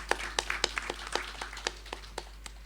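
A small audience claps for a performer at a stage reading event, a rhythmic run of distinct, fairly close hand claps that slowly fade.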